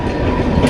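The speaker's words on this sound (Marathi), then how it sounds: "बघू शकता इकडे ट्रेन चालू लोकल" A Mumbai-area local train passes close by with a loud, dense rumble and roar of wheels and carriages that fills the whole short moment.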